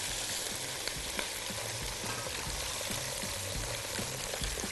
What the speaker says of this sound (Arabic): هنزل بالميه المغليه، لكل كوبايه رز مصري تقريبا كوبايه من الميه المغليه